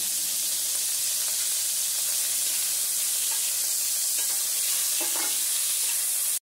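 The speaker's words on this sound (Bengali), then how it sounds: "দিয়ে এবার এর মধ্যে একটু চিকেনের টুকরোগুলো ভেজে নেব।" Chicken pieces fry in oil with garlic, giving a loud, continuous bright sizzle with occasional stirring scrapes throughout, then cutting off abruptly at the end.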